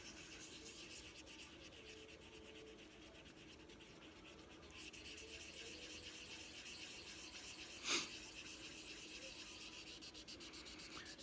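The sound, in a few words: hand sanding a metal trigger guard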